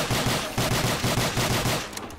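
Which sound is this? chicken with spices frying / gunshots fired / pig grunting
gunshots fired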